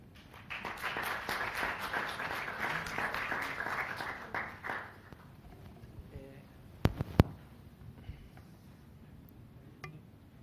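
An audience at a university results presentation claps in a burst of applause lasting several seconds, then it fades into quiet room noise with a couple of sharp knocks.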